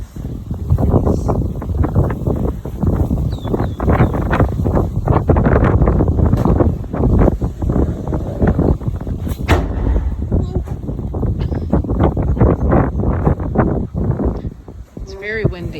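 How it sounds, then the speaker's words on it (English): Strong wind off the ocean in Merida buffets the microphone continuously, a loud roaring gusty rumble throughout with no pause. "It's very windy."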